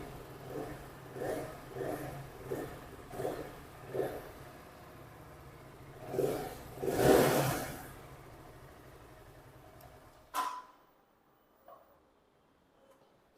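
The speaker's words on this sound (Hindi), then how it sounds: "अब इसका एक बार हम आपको स्टार्ट करके दिखा देते हैं कि इसका एग्जॉस्ट साउंड कैसा है" A BSA Goldstar 650 motorcycle engine idles with a run of rhythmic throttle blips, then a longer, louder rev before it cuts off abruptly, leaving near silence.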